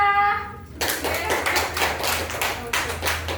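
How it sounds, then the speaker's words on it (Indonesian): A classroom full of people clapping together, a steady burst of applause that starts abruptly after a brief tonal sound and continues evenly. "Tepuk tangan untuk teman-teman kita."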